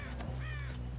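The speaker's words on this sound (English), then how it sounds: "Crows crowing over here." Crows cawing in the Dead by Daylight horror game, a couple of harsh caws sounding close over a steady low ambient drone, with no voices.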